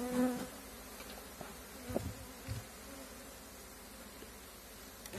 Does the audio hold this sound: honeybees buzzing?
yes